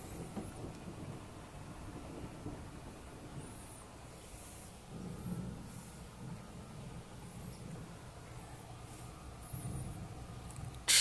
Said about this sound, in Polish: To jest jedna najsilniejszych burz tego roku.